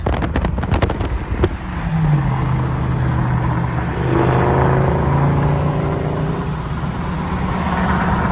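A car engine rumbles close by as the vehicle pulls up and idles, a steady low drone with shifting tones under constant wind buffeting on the microphone.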